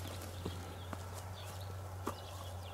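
A stallion moving on a farm in Cluj, with a few faint hoof clops at an irregular pace over a steady low hum and background noise, no talk.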